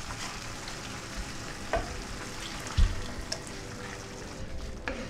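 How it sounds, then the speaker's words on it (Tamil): Masala curry for a home-made chicken gravy fries steadily in a pan, with a continuous close sizzle broken by a few soft stirring knocks and bubbling pops. "மசாலா ஊற்றிக்கிறேன்"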